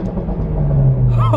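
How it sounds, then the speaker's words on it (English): Ford Focus RS with a full aftermarket exhaust system revving, giving a loud, close rumbling burble with crackling pops near the end. "So we just have our cool burbles, which we got from simply doing the exhaust full system."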